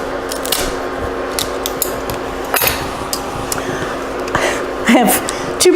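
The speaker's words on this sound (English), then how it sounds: "I'm going to use my scissors." Kitchen scissors snip through the shells of cooked snow crabs with repeated sharp cracks and clicks, close and fairly loud, over a steady background hum.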